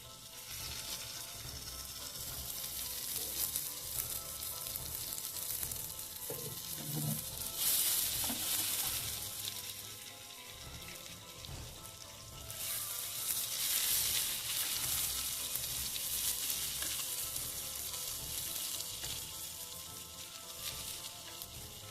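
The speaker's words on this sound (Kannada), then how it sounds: "ಲಾಸ್ಟಿಗೆ ಬೆಳ್ಳುಳ್ಳಿ ಹಾಕ್ತಾಯಿದ್ದೀನಿ." Garlic sizzling and frying in an oil-filled pan while cooking chicken gravy, a steady hiss with occasional stirring and scraping, swelling louder at moments across the whole stretch, close and with no talk.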